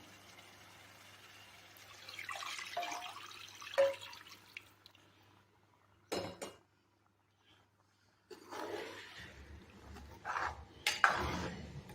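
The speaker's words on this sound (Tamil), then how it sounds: "இப்போது நம்ம கரைச்சி இருக்கிற புளி தண்ணியை இதாக கூட சேர்த்துக்குவோம்" Tamarind water poured into a pan of Andhra-style fish curry, heard as a few separate splashy pouring bursts and drips close by, with pauses between them and no voices.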